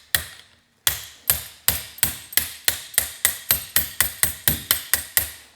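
A hammer taps a socket all the way around to break loose thread-lock compound, giving about fifteen sharp metallic strikes that come faster as they go, close and loud with no talk.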